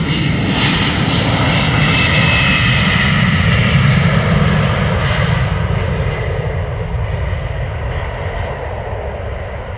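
A jet airliner departs Amsterdam Schiphol Airport with a loud, close roar of engines that swells and then slowly fades as it climbs away, with no voices.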